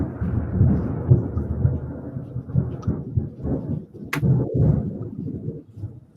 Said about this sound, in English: it's thundering at my house like crazy